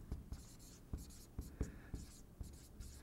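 Chalk or marker strokes writing out math notes by hand, a series of short scratchy taps and strokes in an irregular rhythm, close and fairly quiet, with no talking.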